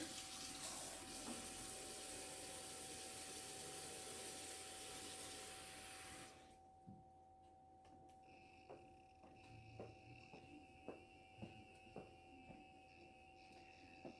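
A sink faucet runs with both handles open, a dense hiss of flowing water that cuts off partway through, leaving faint clicks and handling noises in a quiet room.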